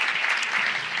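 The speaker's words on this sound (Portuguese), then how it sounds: "Aplauda Jesus bem forte mais uma vez." Congregation clapping strongly inside a church during a worship service, a dense steady burst of applause with no voices over it.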